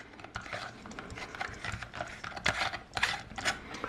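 A light bulb being screwed into a socket on a power tool battery adapter lamp, giving soft, irregular scraping and ratcheting clicks close by, quiet and with no talk.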